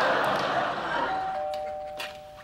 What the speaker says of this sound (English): just checking the doorbell again